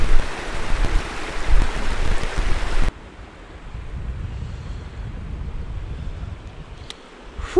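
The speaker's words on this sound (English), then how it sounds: "Whew, that wind's cold." Cold winter wind gusting hard across the microphone beside a river, a loud broadband roar that drops abruptly after about three seconds to a softer, steady rush of wind and water.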